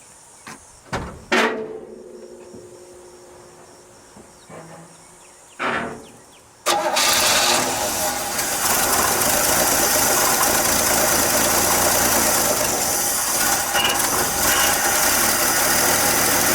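A '67 Chevy C10 pickup with a recently fixed ignition fault gives a few short clicks and cranks, then roars to life and settles into a loud, steady idle.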